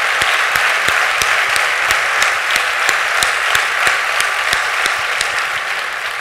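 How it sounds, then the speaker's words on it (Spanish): An audience at a public presentation gives loud, sustained applause, thick steady clapping with a few sharper, more distinct claps standing out in a regular rhythm throughout. "un aplauso para ellos porque es un trabajo brutal el que están haciendo"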